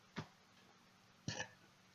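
A person's short burp in a quiet room, followed about a second later by a second, slightly longer throaty burst.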